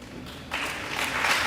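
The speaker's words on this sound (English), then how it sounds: "Nice round of applause." Applause from a crowd at a junior varsity boys basketball game between Hicksville and Stryker, a steady wash of clapping that swells after the first half-second and holds at moderate loudness.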